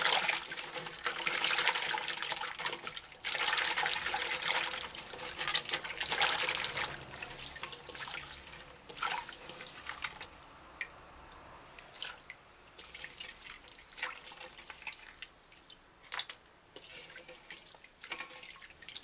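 Water running and splashing as MANBACK plant stems get a rinse, with faint trickling and dripping that comes in uneven bursts, fuller at first and thinning to sparse drips, quiet and close.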